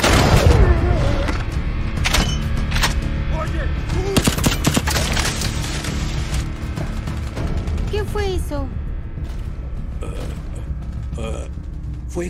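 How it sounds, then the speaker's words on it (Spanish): Fireworks go off in an action film scene, with repeated sharp bangs and crackling bursts mixed with mechanical creaks and rattles over a dense, continuous background. "Fuegos artificiales, ¿sabes? Me pone nervioso."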